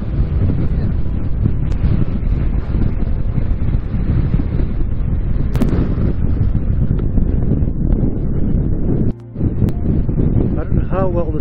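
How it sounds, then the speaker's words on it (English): Strong, steady wind roars and buffets the microphone on a Newfoundland clifftop high up in the clouds, loud and unbroken throughout, with a brief lull near the end and faint voices beneath it. "We're right up in the clouds and this wind is just incredible."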